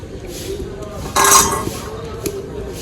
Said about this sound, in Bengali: এই জলের মধ্যে আমি হাফ চা চামচ আগার আগার পাউডার দিয়ে দিব ভালো করে গুলে নেব